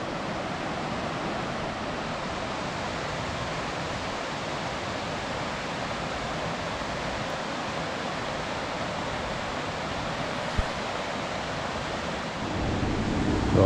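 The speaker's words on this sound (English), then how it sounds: "But there is a waterfall, and that's Mother Walker." Mother Walker Falls rushes through a rocky gorge in Grafton Notch State Park, making a constant, full-bodied roar of falling water with no break, near and steady throughout.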